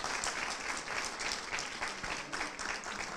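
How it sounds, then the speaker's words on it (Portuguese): A church congregation claps together in sustained, steady applause that fills the space evenly, with no voices standing out above it. "Você pode aplaudi-lo"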